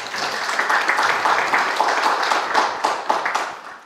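An audience at a talk on a farm business gives steady applause, dense overlapping claps that hold at an even level before tapering off.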